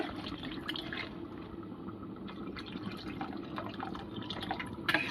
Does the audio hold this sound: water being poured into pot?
yes